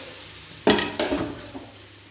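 Spinach batter hits hot oil in a pan, two sharp sizzling bursts followed by a crackling fry that slowly settles, close and fairly quiet, with no talking.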